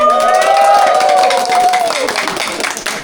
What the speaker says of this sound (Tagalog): Yun ang palakpak ng mga gutom.